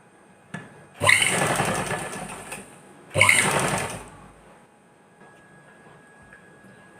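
Sewing machine stitching the fitting seam of a suit, running in two loud bursts of about two and three seconds with a pause between, close up and with no talk.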